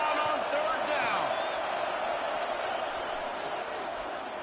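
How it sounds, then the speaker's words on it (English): A stadium crowd at a Florida Gators vs Kentucky football game roars during a third-down play, a dense, loud, unbroken wall of cheering that holds steady throughout. "This crowd unhinged, trying to make sure the Gators don't back down on 3rd down."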